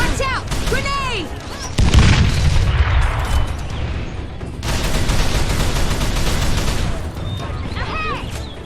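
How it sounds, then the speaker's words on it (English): A grenade blast in Call of Juarez The Cartel lands as a heavy boom amid gunfire, set between bursts of other noisy combat sounds, with voices heard around it. "Watch out! Grenade!"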